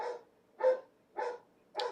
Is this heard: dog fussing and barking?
yes